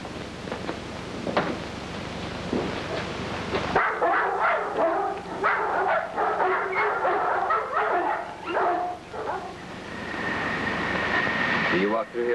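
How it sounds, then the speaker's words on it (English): A dog barks and yips in a 1960 television drama scene, with sharp repeated calls mixed among voices and background noise throughout. "Can you wait till I put your dog in the kennel?"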